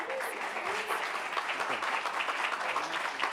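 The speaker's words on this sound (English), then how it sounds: "A big round of applause for our first pitcher." A room full of people applauds for the first pitcher at an innovation fellowship pitch event, continuous dense clapping with a faint voice briefly underneath.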